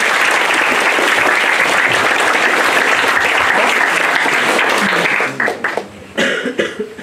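An audience at a school reading concert claps in loud, dense applause that holds steady, then breaks up into scattered claps and a few coughs as it fades.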